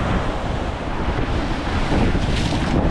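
Strong wind buffeting the microphone over rushing waves aboard a sailboat crossing the Caribbean Sea in about 20 knots of wind, a constant loud roar with no voices.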